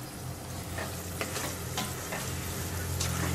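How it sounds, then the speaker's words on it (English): Food fries in hot flavored ghee for a pasta sauce, a dense continuous sizzle with a few soft stirring knocks, close and fairly loud with no voices. "we're soaking them in the hot flavored ghee, also, not only to speed up the cooking, but also to penetrate them with the flavor"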